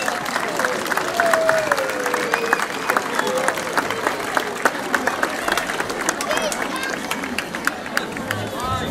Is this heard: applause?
yes